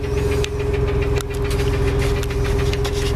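A 1993 Ford F-150 pickup truck engine idles steadily close by, a low rumbling drone with a rough, knocking pulse and a brief dip partway through.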